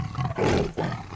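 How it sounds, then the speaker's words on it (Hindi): A deep, loud roar from a tiger, two surging bursts with a short break between them, close and filling the space. "ये तो बाघ है।"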